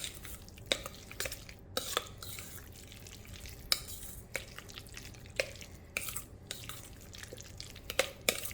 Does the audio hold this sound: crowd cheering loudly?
no